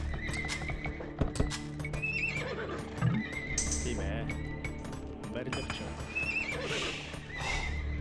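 Cavalier horses in Age of Empires 2 HD, a 3v3 Arena match with the Huns, neigh and whinny repeatedly over dense clip-clopping hooves and busy battle noise throughout.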